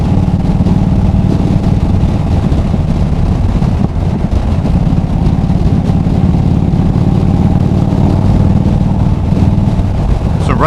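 An Indian Super Chief motorcycle engine rumbles steadily while the bike is being ridden, a loud continuous low drone mixed with wind rush from a helmet-mounted microphone.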